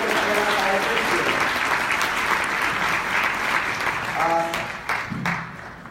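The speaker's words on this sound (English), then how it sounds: "Another round of applause for Emma" Audience applause for a guest at a book marketing talk, dense steady clapping that carries most of the way before thinning out, with a voice breaking in near the end.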